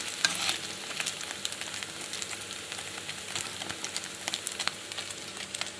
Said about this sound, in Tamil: நல்லா பன்னீர் நல்லா ஃப்ரை ஆகட்டும்